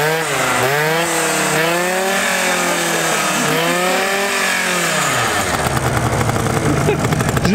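A small scooter engine revs with rising and falling pitch, loud and close, then settles into a rough, rattling idle.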